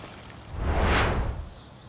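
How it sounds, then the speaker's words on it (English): Water poured in at the top of stacked hanging garden boxes trickles down toward the bottom layer, a single soft swelling wash that peaks and fades within a couple of seconds, fairly close. "Start from the top, and the water will just trickle down through to the bottom layer."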